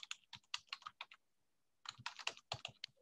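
Close, quiet clicking of a computer keyboard as a web address is typed, coming in two quick bursts of keystrokes separated by a short pause.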